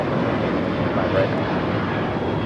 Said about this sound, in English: This is Alaska Airlines 1418 taking off to Guadalajara on the 737-800.